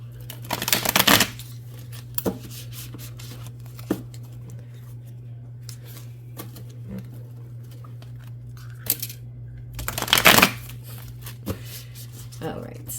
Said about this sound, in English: Let's see if I can shuffle with these fingernails.